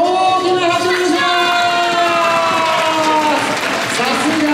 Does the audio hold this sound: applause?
yes